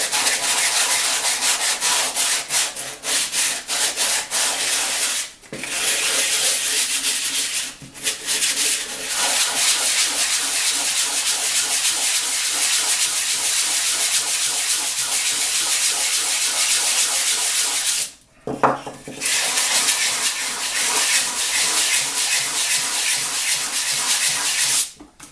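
Steady, loud rasping strokes of a file and sanding paper worked over the flat surfaces of a model, continuous scraping close to the microphone with a couple of brief pauses.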